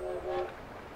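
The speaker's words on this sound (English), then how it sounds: "Yeah, they're on a train." A train rumbles along in the Yoshi's Crafted World video game, a faint, steady rolling hum with a brief tonal horn-like swell near the start.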